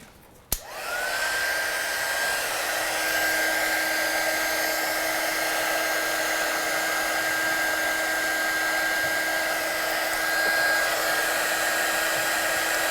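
A hot heat gun blows over embossing powder on a stamped Christmas card. After a sharp click it starts with a steady, fairly loud whirring blast that runs without a break for about twelve seconds, with no talk.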